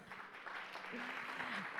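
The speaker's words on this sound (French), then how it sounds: "sous vos applaudissements" Audience applause at a conference on reusable professional packaging, a soft, moderately dense clapping under a faint murmur of voices, continuous through the short moment.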